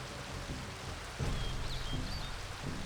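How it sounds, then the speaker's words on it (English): Steady jungle rain from the video game Baten Kaitos Origins, a constant hiss of falling water with a rumbling swell partway through, heard alone with no voices. "aside from all of this lovely rain that's going on"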